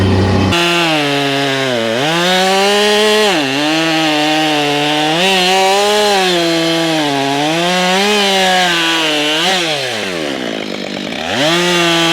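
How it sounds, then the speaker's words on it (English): A chainsaw runs loud and steady at close range as it cuts two logs into firewood rounds, its engine pitch dipping under load and rising again in repeated cycles, with no talking over it. "I'm gonna get these two logs cut up"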